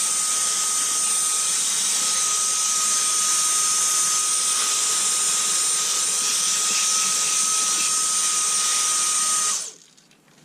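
A repaired Dyson DC30 handheld vacuum cleaner runs continuously on a workbench, giving a loud, steady high-pitched motor whine with airy suction hiss for about nine and a half seconds before it cuts off abruptly.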